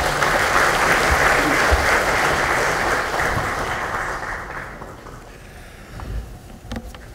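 Audience applause greets a candidate stepping up at a Democratic Party lawmakers' workshop at the National Assembly. Dense, steady clapping fills the room at first, then gradually thins and fades toward the end.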